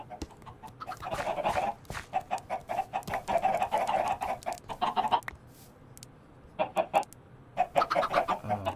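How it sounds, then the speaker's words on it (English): Video game chickens cluck and chatter in quick, irregular bursts, several birds close together, with short pauses between flurries of clucking. "There's all my chickens."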